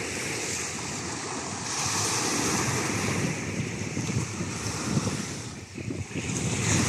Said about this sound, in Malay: Angin kuat ya gengs